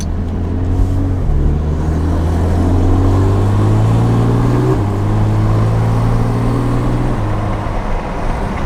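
A Porsche 911 with both mufflers fitted drives on a main road. Its engine drones loud and close throughout, and the pitch rises and falls through several gear changes with no one talking.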